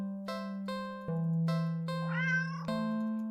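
Cartoonish cat meows from a video game, several clear tonal mews in a row over a steady background drone and chime-like music, fairly close and prominent.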